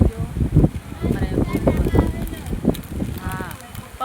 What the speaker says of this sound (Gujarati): પવન બહુ કાઢે છે, વાવાઝોડું બહુ છે